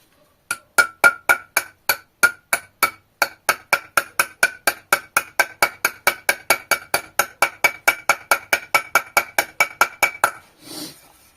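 Steady metallic hammer taps on walk-behind tractor clutch and shaft parts, about forty evenly spaced strikes ringing out close by, followed by a brief softer rustle at the end.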